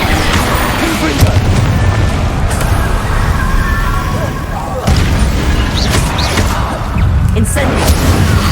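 Loud, booming fire-blast spell bursts from the Confringo charm in Hogwarts Legacy, arriving as several heavy explosive thumps over dense game noise, with crackling and rumbling tails between blasts.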